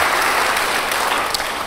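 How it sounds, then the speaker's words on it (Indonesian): Sustained applause from a church congregation, a dense steady clatter of many hands clapping throughout, fairly loud and filling the space without a break. "Beri tepuk tangan bagi dia."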